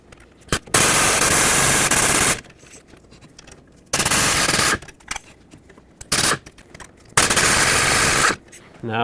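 A power tool loosens the CV axle bolts on the driver's side front of a 1997-2003 Ford F-150. Four loud, close, rattling bursts of one to two seconds each are split by short quiet pauses.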